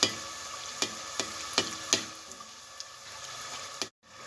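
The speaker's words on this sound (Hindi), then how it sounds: "रोल भी अच्छे से फ्राई हो गए, प्यारा सा कलर आ गया है" Rolls deep-frying in hot oil as part of an iftar spread, giving a faint continuous sizzle with sharp periodic ticks and pops, then a brief cut to silence near the end.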